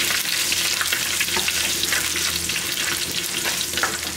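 Curry leaves and dried red chillies crackle in hot oil for chicken fry, a loud, dense, close sizzle that stays constant from start to finish with no voices.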